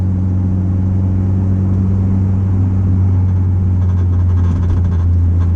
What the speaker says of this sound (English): that rattle right there, that's the exhaust